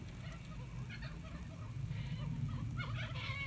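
Cockatoos calling in the Australian bush, a scattering of honking, raucous squawks carried over a steady low background rumble, moderately distant rather than close.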